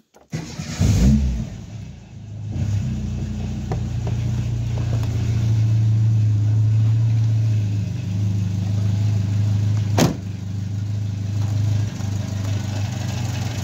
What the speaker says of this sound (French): Allez, on va démarrer la voiture.